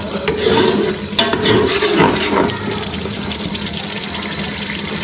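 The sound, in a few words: water added while frying masala cauliflower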